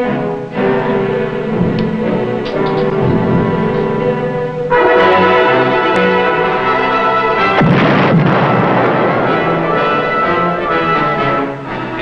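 A submarine torpedo launch and explosion aboard USS Guardfish: a loud, continuous rumbling roar with a sharp surge partway through and a second blast-like swell later, heavy and sustained throughout under dramatic layered sound.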